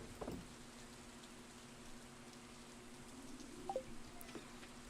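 Soft, steady rainfall fills a summer rainy day in Stardew Valley, a quiet hiss of drops with a few faint game blips and chimes over it.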